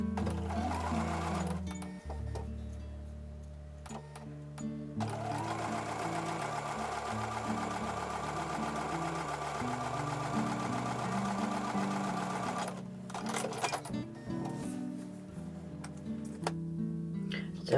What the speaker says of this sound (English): I'm going to take that to the sewing machine and draw and sew from here to